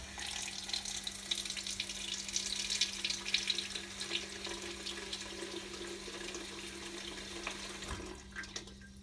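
Spire drink dispenser pouring Pepsi Max, a steady rushing hiss of carbonated liquid flowing continuously from the dispense head, with a low electrical hum beneath and a brief clunk near the end.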